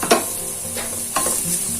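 Carrots tipped into a pan of frying vegetables for a hot and sour veg soup, a sharp clatter then scraping stirs over a steady sizzle, with a second stirring burst about a second later.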